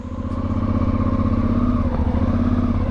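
A Suzuki V-Strom 650 adventure motorcycle engine runs steadily and close by, a continuous loud harmonic drone with slight pitch shifts, heard just before a deep river crossing.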